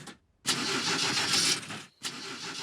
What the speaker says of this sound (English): I will now start the engine.